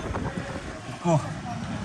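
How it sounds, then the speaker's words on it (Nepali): A cold wind blows halfway up a sightseeing viewpoint in Kathmandu, making a low, steady rumble as it buffets the microphone. A voice can be heard faintly within the noise. "आधा बाटोबाट भ्यू चाहिँ यस्तो दामी हावा चल्दो रहेछ आम्मा चिल्ड हावा"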